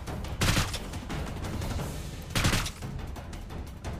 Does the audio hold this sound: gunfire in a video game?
yes